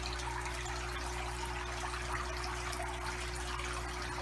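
Steady water trickles from the clean-water outlet pipe at the back of an RFF filter in a backyard aquaponics system, a soft, continuous flow with a low hum beneath it and no voices.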